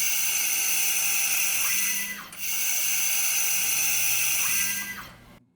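A Crossfire Pro laser cleaning mill scale off metal produces a loud, steady high-pitched whine and hiss in two long passes separated by a brief dip, close and without speech.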